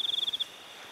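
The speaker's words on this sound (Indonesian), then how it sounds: "Ya hanya suara-suara jangkrik malam itu wajar lah ya." Crickets at night give a close, rapid pulsing chirp of about eight quick beats, then fade into a faint steady trill.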